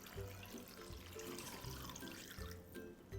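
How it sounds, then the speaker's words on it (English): Water pours into a pot to make Chinese Ba Zhen herbal chicken soup, a steady close trickle and gurgle with a few brief low thumps, no talking. "We'll add in 1 liter of water now."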